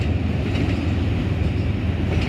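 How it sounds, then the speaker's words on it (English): A CSX freight train passes with an ES44AH helper locomotive pushing at the rear, a continuous low rumble and rolling wheel noise at moderate volume, with no voices. "You got a end of train engine here helping."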